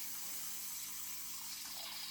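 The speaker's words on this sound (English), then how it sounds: "I'm spraying water in here now." Steady hiss of water being sprayed inside a house snake enclosure, a continuous broadband spray that stays even and fairly quiet for the whole stretch with no talking.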